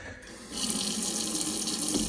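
Water gushes steadily from a hotel room sink faucet, a constant hissing rush that starts softly and grows stronger, with no voices.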